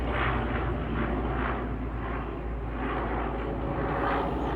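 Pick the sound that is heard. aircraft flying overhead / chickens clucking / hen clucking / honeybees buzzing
aircraft flying overhead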